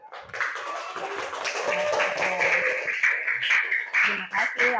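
Classroom applause for a student group after a presentation in an English lesson, with a busy wash of clapping and cheering that runs steadily for several seconds while voices talk over it.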